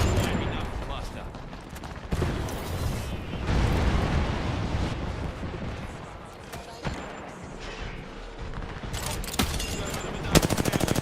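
Frag grenade blast in Apex Legends during a competitive scrim, a heavy explosion amid rapid machine-gun fire and scattered gunshots, with a player talking over the fighting.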